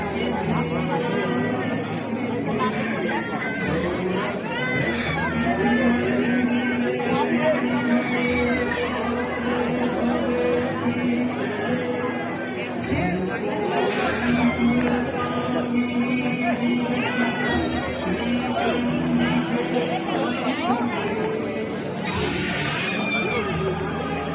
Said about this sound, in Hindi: और यहाँ पे बहुत ज़्यादा भीड़ है।